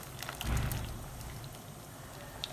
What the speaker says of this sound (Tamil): இதை தண்ணி வடிகட்டி வச்சுக்கலாம்.